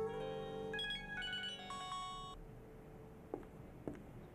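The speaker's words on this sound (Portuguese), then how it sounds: "Ligação do Atese" An incoming call sets a phone ringing with a bright, repeating ringtone melody for about two seconds. It then falls silent, leaving a quiet room with a couple of faint knocks.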